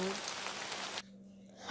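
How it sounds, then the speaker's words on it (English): Steady rain hisses loudly for about a second, then cuts off abruptly and leaves near silence. "It's raining."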